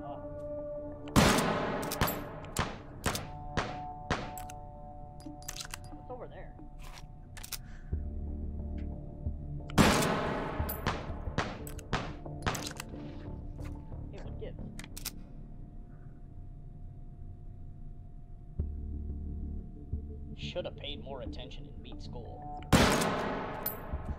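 A Martini-Henry rifle fires in the video game Cowboy Take and Hold: three sharp, loud shots spaced far apart, with many quick mechanical clicks and clacks of reloading in between.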